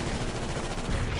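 Dense, continuous gunfire from the video game Dawn of War, loud and unbroken like sustained machine-gun bursts with heavy low rumble, no talk.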